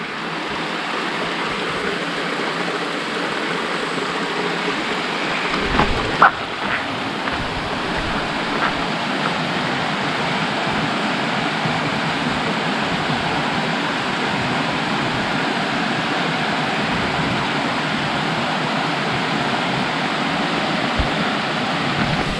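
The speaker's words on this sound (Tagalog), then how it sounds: "Ito pala yung falls." A waterfall in Sudipen, La Union, rushes as a steady, broad roar that stays constant throughout, heard close and alone apart from a brief knock near the middle.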